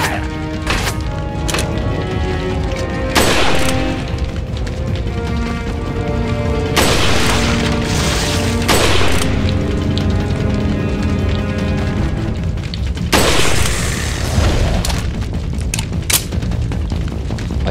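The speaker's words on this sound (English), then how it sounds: "Taking out the rifle." Rifle gunfire in Resident Evil 4 Separate Ways: a string of loud, sharp booming shots spaced a few seconds apart, each with a ringing tail, over a continuous tense game soundscape and no talking.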